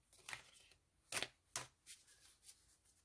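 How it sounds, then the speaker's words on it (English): Tarot cards being shuffled close by: several short riffling bursts with brief pauses between them, soft and crisp in a quiet room. "let's shuffle again here."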